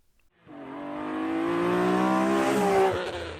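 A supercar or single-seater racing car at Thruxton Motorsport Centre accelerates hard on the circuit, its engine note rising quickly from silence into a loud, climbing howl, then shifting gear near the end.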